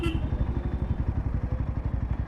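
Royal Enfield Himalayan 450 motorcycle idling or running at low revs, its engine and exhaust giving a steady, close, pulsing thump with an even rhythm throughout.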